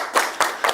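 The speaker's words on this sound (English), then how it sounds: "A round of applause, please." Three sharp bursts of audience clapping in a TV game show studio, each swelling briefly then fading, close and fairly loud.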